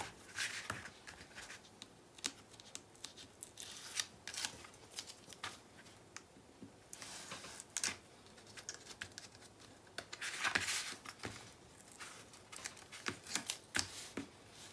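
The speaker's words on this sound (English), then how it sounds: "And I'm gonna add some more tape." Adhesive tape being pulled and pressed onto a handmade album box, faint scattered crackles and sharp ticking bursts with short pauses between, close by and quiet, without speech.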